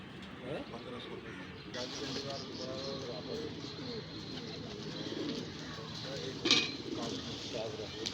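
Pigeons coo softly in low, repeated calls close by, with people talking over them and light background noise.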